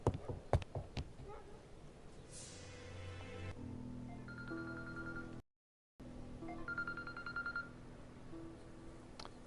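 A phone's ringtone or notification chime sounds during a locked-room escape game set in a shop, with repeated tonal beeps and ringing patterns over background game sounds, interrupted by a brief gap.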